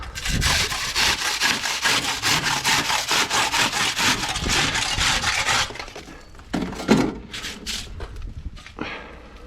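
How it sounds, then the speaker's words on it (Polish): A handsaw rasps through a soft aerated concrete block in steady rapid strokes for several seconds, close and loud, then stops, leaving a few scattered scrapes and knocks. "Piła do Suporexu."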